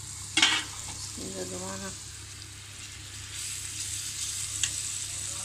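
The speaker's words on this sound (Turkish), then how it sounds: "Soğanla kavuruyorum." Onions sauté in a pan for dried beans, a steady soft sizzle with occasional stirring scrapes, close by, while someone speaks briefly over it.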